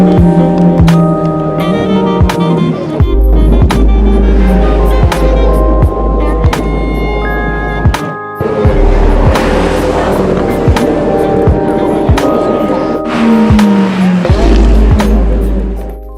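McLaren 570S and 570GT sports cars drive up Goodwood Hill at the 2016 Festival of Speed, their engines roaring loudly and continuously, with rising revs and gear changes and no voices.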